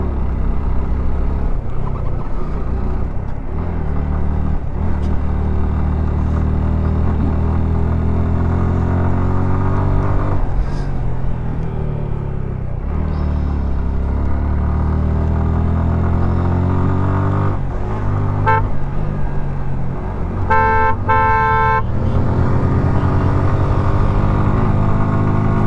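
A motorbike rides the mountain road up to Sajek Valley, its engine droning loud and steady at close range with rising and falling revs as it shifts, plus a short horn-like beeping tone near the end.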